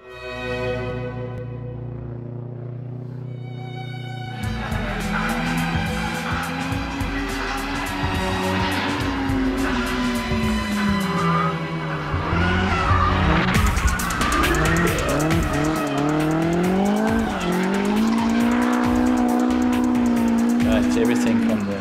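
A drift car slides hard with sustained tire squeal, its engine revving and howling, rising and falling through long skids, loud and close, with a voice talking over part of it.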